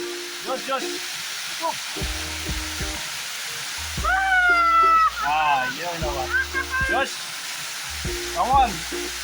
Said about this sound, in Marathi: आम्ही आलो आहोत घरापासून अडीच किलोमीटरवर असलेला वॉटरफॉल एन्जॉय करायला